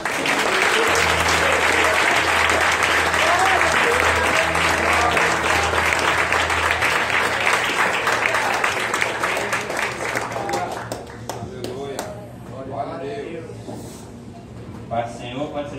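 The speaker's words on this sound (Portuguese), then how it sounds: "Quero dar uma salva de palmas?" A church congregation at an evangelical service gives a loud, dense round of applause that thins and fades toward the end, with a low sustained musical tone underneath and voices emerging as the clapping dies down.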